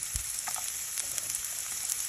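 Ginger and garlic fry in a pan, a soft, steady hiss and crackle with light stirring taps, faint and continuous without any talk.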